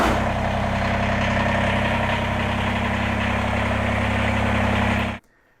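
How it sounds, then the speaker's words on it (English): A Kubota BX compact tractor engine idles steadily while warming up before an oil change, a loud, even diesel chug with constant low rumble, running alone until it cuts off abruptly near the end. "we're going to start that process by simply warming up the engine"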